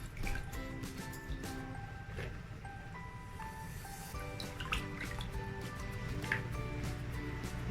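Beans turned over and lifted out of cold water while making Giresun-style pickled beans, with soft wet dripping, sloshing and trickling close by.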